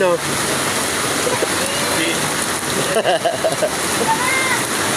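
Floodwater rushes and splashes continuously after nonstop rain, a steady broadband roar that stays loud throughout, with people talking over it.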